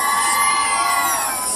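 A live concert crowd cheers and whoops loudly and continuously for a timbales player, forming a dense, bright wall of sound with no gaps.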